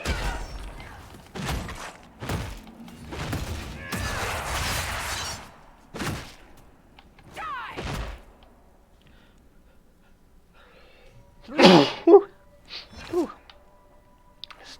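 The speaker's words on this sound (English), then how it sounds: "Sneezy sneeze." A short burst of two sharp sneezes stands out near the end of a stretch of game sounds and thuds, followed by quieter clicks; the sneezing comes across close and distinct.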